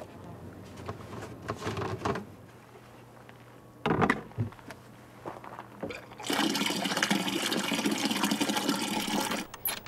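Water runs from a cistern into a canister beside a watchtower in Oregon, a few clunks and splashes at first, then a loud, steady rushing fill during the second half.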